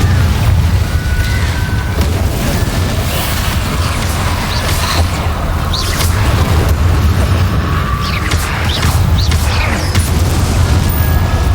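Loud fiery spell blasts from the Confringo curse in Hogwarts Legacy, booming bursts and pops repeating over a dense, continuous game soundscape with a low rumble underneath.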